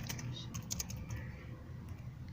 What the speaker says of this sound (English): Now let's type in the date.